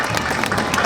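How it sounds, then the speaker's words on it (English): Crowd applause at an outdoor apple festival parade for the festival queen and her court, a brief wash of clapping heard from a distance, even and steady. "Nice round of applause for our Queen and Court and our little queens"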